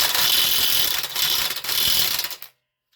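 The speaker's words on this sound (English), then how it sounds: "We'll crank this on. Now we're a grade 8 bolt, so I'm not concerned about breaking." A ratchet cranks a grade 8 bolt tight on a Subaru suspension, giving a steady, loud rapid clicking for about two and a half seconds before it stops abruptly into silence.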